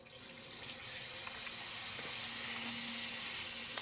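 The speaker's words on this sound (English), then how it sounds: "Very nice fizz though, I have to say." A dollar-store bath bomb fizzes in water with a steady, close hiss that swells slightly and stays constant, with no talk over it.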